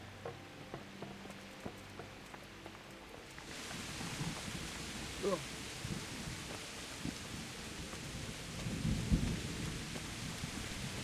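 A thunderstorm in the video game Kingdom Come Deliverance: steady heavy rain hisses throughout, with low rumbling thunder rolling in and a sharper crack partway through.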